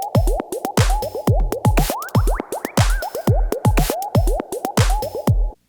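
A VPS Avenger synth on its Bleep Bloop preset without the sine wave plays a fast run of punchy pitched blips with sweeping chirps and clicky transients, loud and alone.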